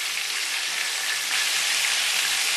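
Meatballs fry in hot vegetable oil in a pan, a loud, dense, continuous sizzle heard up close with no voices.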